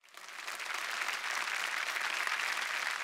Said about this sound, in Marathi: मामांसाठी जोरदार टाळ्या